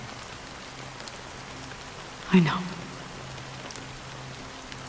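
Rain falling in the video game Honkai Star Rail, a soft steady hiss throughout with one brief dull thump near the middle and a short spoken remark.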